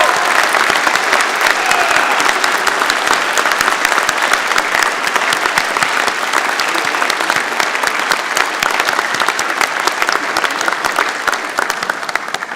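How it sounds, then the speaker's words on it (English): Sustained, loud applause from a graduation convocation audience, a thick steady roar of many hands clapping that fills the hall for over twelve seconds, tapering slightly at the end. "Graduates, a round of applause."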